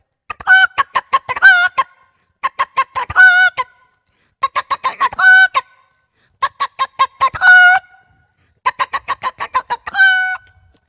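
A stage mimicry performer imitates a hen clucking, giving five loud bursts of rapid clucks, each ending in a drawn-out squawk, separated by short silences.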